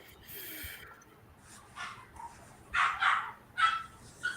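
A Shih Tzu gives a few short, sharp barks and yips near the end after a quieter opening. The sounds are close and moderately loud, with faint low noise between them.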